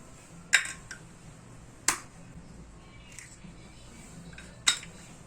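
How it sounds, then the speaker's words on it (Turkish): Eggs cracked one after another against a bowl rim for manti dough, giving a few sharp, isolated taps with quiet pauses between them, close and fairly faint. "Şimdi iki adet yumurta kırıyorum."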